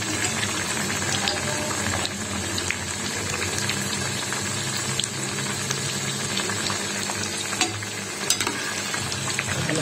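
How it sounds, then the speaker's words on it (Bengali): A Mughlai paratha fries in a little oil in a pan, producing a loud, dense, continuous crackling sizzle close up, with occasional sharper spits. "একটু তেলে ভেজে নিচ্ছি"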